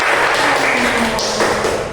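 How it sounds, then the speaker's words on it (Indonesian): A primary school class claps briefly after a group reads its answers, a short, dense patter of hands close by with a voice speaking over it. "Tepuk tangan."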